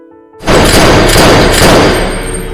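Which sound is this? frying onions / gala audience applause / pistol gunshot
pistol gunshot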